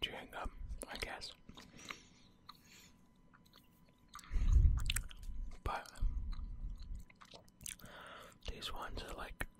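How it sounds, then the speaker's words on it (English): Chewing Airwaves gum close to the mic, soft wet smacking and squishing mouth sounds with a louder burst midway, mixed with whispered talk. "chewing gum, I guess."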